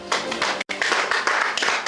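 A church congregation claps together in praise, a dense run of fairly loud, rhythmic hand claps with a very short break partway through and no talking over it.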